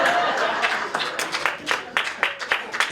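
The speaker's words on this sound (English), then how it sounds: "Give him a round of applause" An audience at a stand-up comedy show applauds in a short burst of scattered clapping that quickly thins into separate claps.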